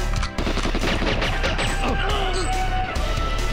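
Gunfire from shooting enemies in the GoldenEye 007 remaster on the Dam level, rapid automatic bursts with crashing impacts, loud and close, under a speaking voice.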